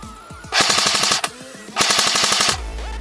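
A Cyma CM.513 M4 RIS suppressed airsoft rifle firing on full auto, two close, rapid bursts of mechanical clacking, each about a second long, with a brief pause between and quieter single clicks around them.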